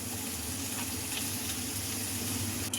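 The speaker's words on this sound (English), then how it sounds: "Let's go ahead and fry this up." Bacon sizzles and crackles in an already hot pan, a steady close frying hiss that runs alone throughout with no talk.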